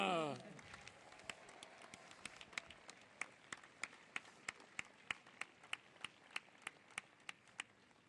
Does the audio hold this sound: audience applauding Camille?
yes